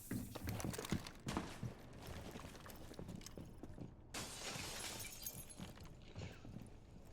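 Glass window shatters in Rainbow Six Siege during a competitive match, heard as sharp crackling breaks and scattered debris clatter in quick bursts, with a second burst of breaking after a brief gap.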